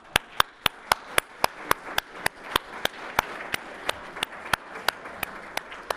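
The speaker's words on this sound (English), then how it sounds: "Let's all give a hand of applause to those." Applause at a Class of 1964 50th reunion for a couple's anniversary: sharp, evenly spaced claps close to the microphone keep a steady beat over a faint background of wider clapping.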